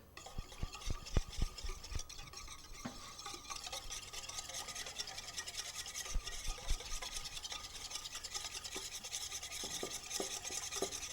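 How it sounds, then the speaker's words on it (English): Mayonnaise whisked into an emulsion in a bowl, a continuous quiet rapid scraping and swishing with a few light taps early on, close and alone. "We're going to whisk that right into the emulsification that we already did."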